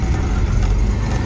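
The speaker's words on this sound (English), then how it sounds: "So the engine is cold, but let's fire her up here." Cold car engine just after starting, a loud steady low rumble close by, running slightly rough with no voices.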